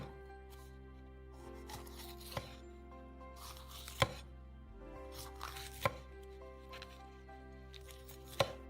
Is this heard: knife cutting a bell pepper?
yes